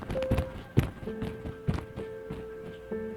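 Staged footsteps for a Filipino radio drama about Sisa from Noli Me Tangere: a steady series of close, thudding steps on a hard surface, with a sustained tonal background underneath.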